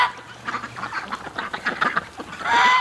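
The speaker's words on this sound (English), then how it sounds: "Ducks are eating the rutabaga leaves." Ducks quack loudly and repeatedly up close in a winter garden while eating rutabaga leaves, a busy overlapping run of nasal calls and honks that grows denser toward the end.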